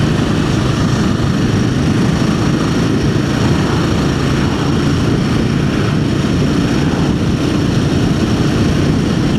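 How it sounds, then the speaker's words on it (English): A small car engine holds steady revs, producing a loud, close, continuous droning hum with a rough, buzzy texture and no noticeable rise or fall. "Just to keep the little motor spinning smoothly."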